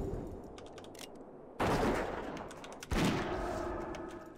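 A hunter's gun in World of Warcraft Classic fires two loud, sharp shots a little over a second apart, each with a long ringing decay, over quiet game ambience and no talking.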